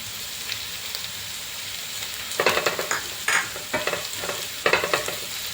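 Onions sauté in a pan for a chicken curry, a steady sizzle broken by bursts of louder frying and scraping as the pan is stirred, with no voices.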